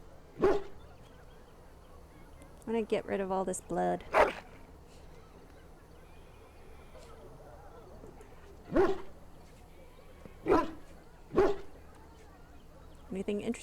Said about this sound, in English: Puppy.